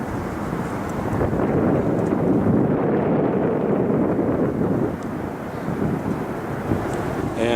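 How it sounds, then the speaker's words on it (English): Strong wind buffets the microphone outdoors on a park hike: a continuous loud low roar that swells and eases slightly. "And of course the wind decides to blow now that I've changed batteries and want a video."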